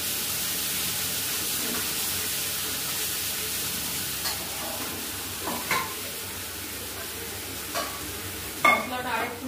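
Spice masala stir-frying with water in a pan for chicken biryani, a steady broadband sizzle with occasional scraping stirs and a louder clatter near the end.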